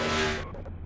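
A race car slides in a NASCAR-style sim racing game at the Coca-Cola 600, giving a short, loud, broad screech and engine roar that cuts off abruptly into a lower rumble.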